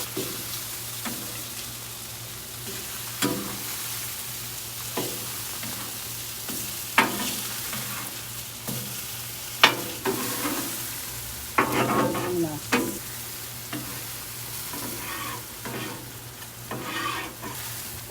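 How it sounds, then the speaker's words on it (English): Butter and olive oil sizzle steadily on a hot grill being readied for sausages, a continuous frying hiss broken by scattered scrapes and clicks of a utensil, with no talking. "You throw a little butter and olive oil on the grill."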